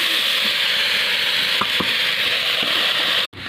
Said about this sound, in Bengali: কড়াই বসিয়ে দিয়েছি কড়াইতে আমি পুঁই শাকগুলো দিয়ে দেবো